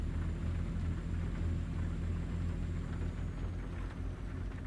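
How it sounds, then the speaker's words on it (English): Rain in a driving video game falls as a steady, dense hiss with a low rumbling undertone, continuous and even throughout, with no speech. "Even in this game, I love the rain."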